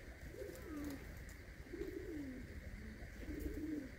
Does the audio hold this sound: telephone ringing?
no